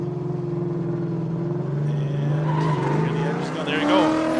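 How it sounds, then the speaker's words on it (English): Two drift cars, one a black Nissan 240SX, launch side by side off the start line at a drift series event, engines roaring and tires squealing loudly as pitch climbs, with announcer commentary running over the top. "Out the gate they come, both cars almost side by side"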